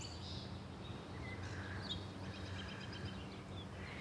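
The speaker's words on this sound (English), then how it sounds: "There's a lot of birdsong in the garden this morning." Faint birdsong carries across a garden in the morning, light scattered chirps and tweets over a quiet, steady background hiss.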